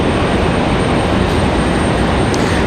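An Icelandair jet departs Raleigh-Durham airport, its engines a loud, steady, broadband roar that holds without letup from start to finish.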